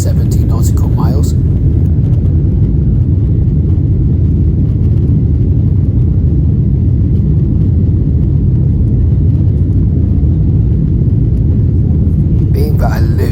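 Inside an airliner cabin during takeoff, a heavy, steady low engine rumble and roar drones continuously and loudly, with brief faint sounds at the very start and end.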